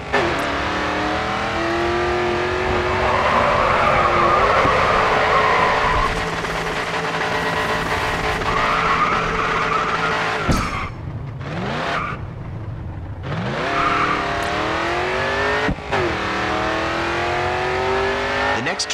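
A car drifting in the PC racing game Grid 2, its engine revving steadily with rising and falling pitch, the tires squealing through the slide before a brief drop and the engine climbing again.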